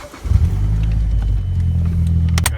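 A Toyota/Scion FR-S fitted with unequal length headers idles with a loud, steady, deep burbling rumble, close by and continuous, with a brief sharper blip near the end.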